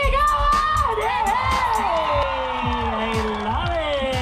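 A festival crowd at Taste of Manila in Toronto cheers with whoops, shouts and some clapping, loud and lively with a voice over the PA.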